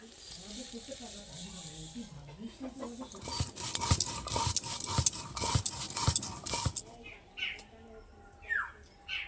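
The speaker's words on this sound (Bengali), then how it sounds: "মশলাগুলো ঠান্ডা হয়ে গেছে, এগুলো আমি সিলে খিসখিস করে বেটে নেবো, একেবারে গুঁড়ো করবো না" Cooled spices are ground coarsely on a sil grinding stone for chalta pickle, a run of rhythmic scraping strokes in the middle, quieter sounds before and after.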